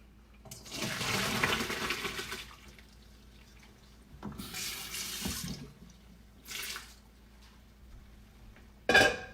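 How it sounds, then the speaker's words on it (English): Hot pasta water pours through a strainer into a kitchen sink in several rushing bursts, the first longest, then shorter gushes and a final splash, close and alone without speech. "I'm gonna drain it. I have a strainer in the sink."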